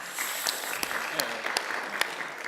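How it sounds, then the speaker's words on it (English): Scattered, fairly quiet clapping from a gathered crowd at a Sorry Day ceremony in Australia, with a few sharper individual claps standing out over a soft background of room noise. "give him a clap"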